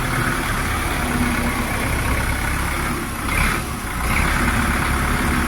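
A Jinma 404 tractor engine idling nearby on a tractor lot, a constant rough low rumble with a brief swell in the middle, and no talk.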